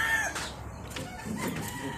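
Rooster crowing at a game farm in Canlaon, Negros Oriental, a loud close crow with clucking fowl around it in a noisy outdoor setting.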